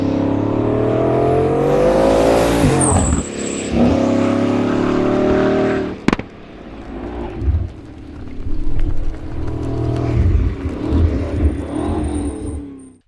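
Bugatti Bolide track hypercar engine roaring loudly at full throttle, a sustained harmonic blare that drops away after a sharp gearshift, then returns in rougher, fluctuating bursts of revving.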